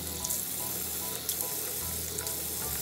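Tap water runs with a steady, close hiss as a mouth is rinsed after tooth brushing, continuous and without speech.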